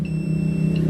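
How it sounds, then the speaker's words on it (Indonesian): A steady high-pitched multimeter continuity beep sounds over a low humming background for under a second, while checking wiring on a Beat FI motorcycle. "untuk di multitesternya saya pakai yang ada bunyinya seperti ini"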